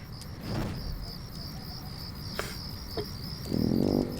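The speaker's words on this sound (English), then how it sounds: "all you could hear were the crickets" Steady high-pitched cricket chirping fills the background, with a few faint clicks and a soft low murmur near the end.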